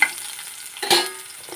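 Dried chilli, black cumin, garlic and onion going into hot oil in a pan, a soft steady sizzle broken by one brief louder splash and hiss, with no talking.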